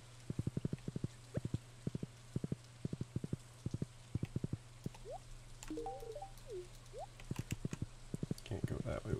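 Horse hooves clip-clop in steady, evenly spaced bursts of quick taps while riding in the farming video game Stardew Valley, over a constant low game hum with a few chirpy effects in between.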